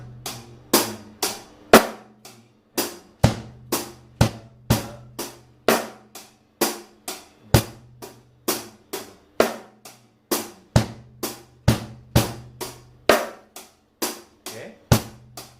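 A drum kit plays a crisp, evenly spaced 16-beat groove, with sharp repeated hits close and loud and bass drum thumps recurring in a steady pattern, with no voices.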